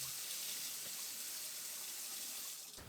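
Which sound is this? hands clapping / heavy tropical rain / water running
water running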